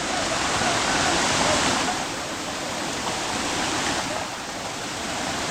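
Mountain stream water rushes steadily on a Nethravathi peak trek in the Western Ghats, a dense, continuous broadband roar close to the microphone with no pauses throughout.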